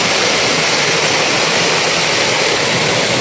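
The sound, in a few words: waterfall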